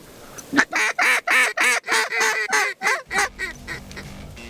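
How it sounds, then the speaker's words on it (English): Ducks flying overhead during a public-land duck hunt give a loud, rapid series of about a dozen honking quacks, close and clear, trailing off at the end against a low hum. "We've already had a lot of ducks over us"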